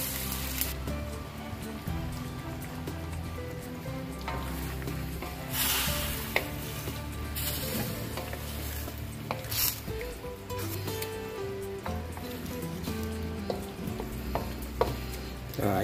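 Chicken meat, close to 2 kilos, sizzles and crackles in a pan while being stirred, with steady frying hiss and occasional scraping and squishing stir sounds, no voices.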